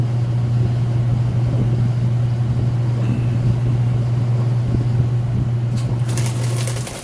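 A 2017 Speed Queen washing machine spinning at 650 RPM: a steady, loud low hum from the drum holding constant throughout, with a faint rattle near the end and no voices.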